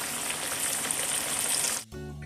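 Tromboncino squash sizzles and fries in a pan with a steady close hiss that cuts off abruptly near the end and gives way to a low hum.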